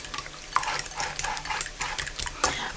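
Apple compote and an egg being stirred together in a bowl, a quick run of wet scraping and utensil clinks against the dish repeating in short strokes.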